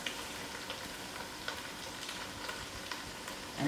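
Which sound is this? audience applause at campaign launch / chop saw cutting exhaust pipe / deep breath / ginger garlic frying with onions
ginger garlic frying with onions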